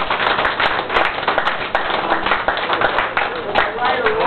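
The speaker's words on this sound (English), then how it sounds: "Could I hear a little applause for that?" Audience applause at a live steel guitar and drums performance, a continuous patter of many hands with speech mixed in over the top.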